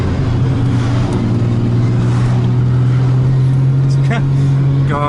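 Subaru BRZ engine pulling hard under acceleration, a loud steady drone that climbs gradually in pitch from inside the car, with brief voices and cabin clatter near the end.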